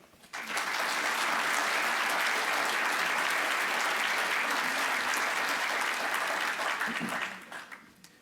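A lecture audience at the Virginia Museum of History applauds to welcome lecturer Matt Costello, a dense, steady wash of many hands clapping that swells in quickly, holds for several seconds, then tapers off.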